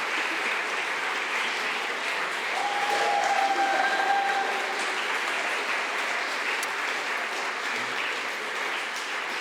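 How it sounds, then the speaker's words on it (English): Steady audience applause fills a forum hall, a dense even wash of many hands clapping at moderate distance, holding roughly constant throughout with a faint tone briefly audible above it. "They deserve your applause."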